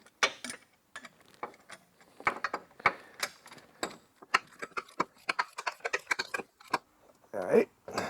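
Close mechanical ratcheting and clicking as a torque wrench is set to 42 foot-pounds during valve work on an EZGO golf cart's 350cc Robin engine, in short irregular bursts with a louder burst near the end.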